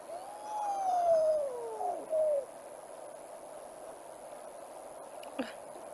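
A Pel's fishing owl calls with a few drawn-out, descending whistled notes over a steady background hum, followed by a brief sharp knock.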